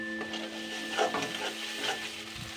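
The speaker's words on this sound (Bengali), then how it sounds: "এবার এটা ব্রাউন না হওয়া পর্যন্ত নেড়ে যাব।" Chitol fish stirred in a pan with salt, turmeric, chili, cumin, coriander and garam masala until browned: soft continuous scraping and gentle sizzling, close and steady, with no voices.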